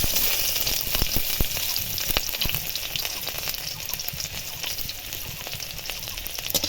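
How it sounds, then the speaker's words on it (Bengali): Chopped onion frying with nigella seeds and dried chilli in hot mustard oil in a kadai, a loud continuous crackling sizzle with occasional sharp pops and stirring ticks. "পেঁয়াজটা ভালোভাবে লাল করে ভেজে নেব।"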